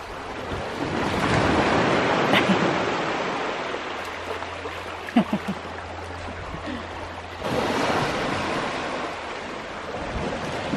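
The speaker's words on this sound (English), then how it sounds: "The sea is right by my feet." Sea waves wash steadily onto a beach in Cornwall, a continuous broad rush with a louder surge partway through, heard close with some wind noise.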